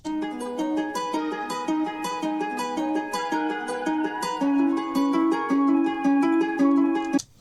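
A plucked guitar melody plays steadily in a looping pattern, bright and close, then cuts off abruptly at the end.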